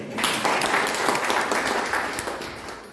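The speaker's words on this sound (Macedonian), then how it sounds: "Аплауз за доктора на ново" An audience gives a doctor a round of applause during a talk, a dense burst of clapping that swells quickly and fades over about three seconds.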